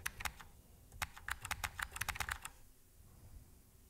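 Computer keyboard typing in quick bursts of crisp keystrokes, a dense run of clicks followed by a quieter tail of background noise, no voices.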